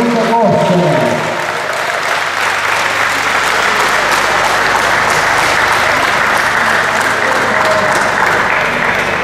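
Crowd applause at an award ceremony for a slalom rally in Altomonte, a continuous broad wash of clapping that holds steady and loud throughout, with a voice briefly audible at the very start.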